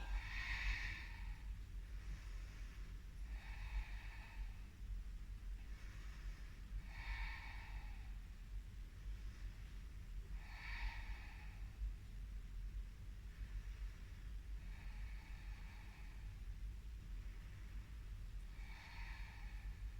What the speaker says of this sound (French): Allongez la respiration par le nez.